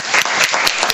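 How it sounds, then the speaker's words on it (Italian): An audience at a school book presentation applauds the head teacher, a brief burst of dense clapping heard at moderate loudness. "Io vorrei un applauso per il dirigente scolastico Fabio Baldi."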